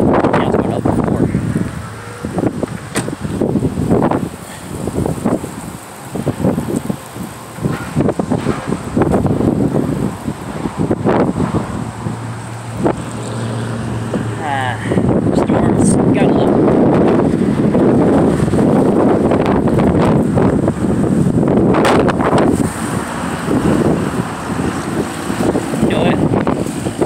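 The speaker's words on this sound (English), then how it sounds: "See how windy it is out here now." Strong wind buffets outdoors along a walking trail, roaring and gusting loudly in waves throughout, with a person talking intermittently beneath it.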